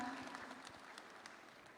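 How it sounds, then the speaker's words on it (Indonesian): Audience applause at LPS Financial Festival 2025 in Medan, a dense patter of many hands clapping at moderate distance, steady and fairly quiet throughout, no voices above it. "Kita berikan tepuk tangan yang meriah."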